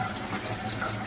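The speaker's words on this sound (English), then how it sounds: "Except I need to refill my water." Water runs from a kitchen tap to refill a drinking container, a short steady close gush of filling liquid.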